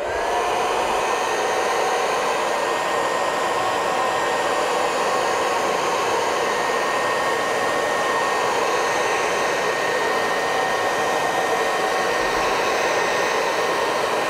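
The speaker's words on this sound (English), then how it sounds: "I'm going to use the high setting on my hairdryer" A hair dryer on high heat blows steadily and loudly at full power, a constant airy roar with a faint whine, running without pause throughout.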